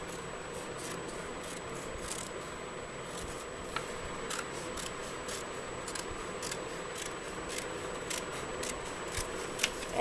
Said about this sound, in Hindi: अब इसको काट लेंगे हम सीजर की मदद से